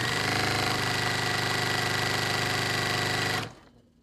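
A sewing machine stitching quilt pieces with a quarter-inch seam runs fast and steady with a dense, buzzing mechanical rattle for over three seconds, then stops abruptly and leaves a faint fading hum.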